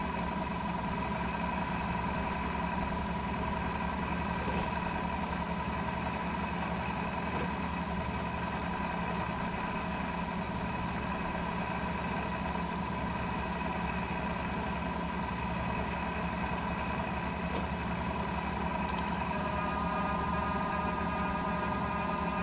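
A milling machine reams a hole at slow RPM, taking off about 10 to 15 thousandths for a sine mill vise, with a steady, low, even motor drone and hum that continues unchanged.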